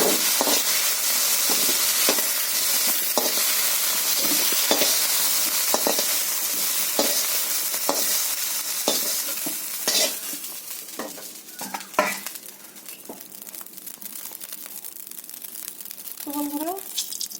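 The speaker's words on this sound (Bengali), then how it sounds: "আলু ডাঁটাটা আমার ভাজা হয়ে গেছে," Potato and drumstick pieces being stir-fried in a wok: close, repeated scraping and stirring over a continuous oil sizzle, with the sizzle easing toward the end and a voice talking briefly.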